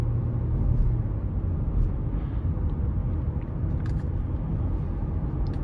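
A 2023 Honda Pilot LX AWD with its 3.5-litre engine and ten-speed automatic pulls onto an interstate under power, a steady, loud low rumble heard from inside the cabin, with no speech.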